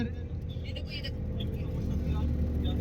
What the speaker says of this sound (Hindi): अभी हमारी गाड़ी मुजदलफा की तरफ रवाना है